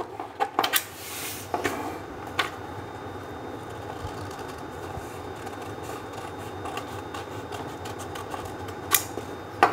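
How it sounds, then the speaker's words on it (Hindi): Scissors trimming excess buckram fabric at a sewing table: quiet snipping and crisp crackling of the stiff fabric, with a few sharper metallic clicks near the start and end, over a faint steady hum. "अब ये जितनी भी एक्स्ट्रा बुकरम होगी आपकी, ये सारी की सारी कटेगी"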